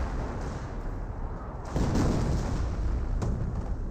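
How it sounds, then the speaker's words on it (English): An off-map artillery strike in the game Company of Heroes 1 lands as a heavy, deep boom over a rumbling battlefield din, with a fainter impact following a moment later. "No, that had to be off-map artillery from the US player."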